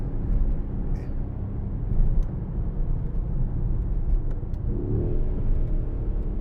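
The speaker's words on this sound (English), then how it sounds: "it's just blipping up, matching the revs, but it sounds like absolute heaven" A Mercedes-AMG GLC63 S with a 4.0-litre V8 biturbo engine, heard from inside the cabin as a steady deep engine rumble with a slight rise as revs blip on a downshift, fairly loud, with no speech.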